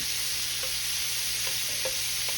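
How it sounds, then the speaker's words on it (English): Garlic shrimp scampi searing in a hot pan: a steady, close sizzle with a few light taps as the shrimp are turned, and no voices. "I'm going to turn the shrimp over. Like I said, I just want to get a nice sear on it."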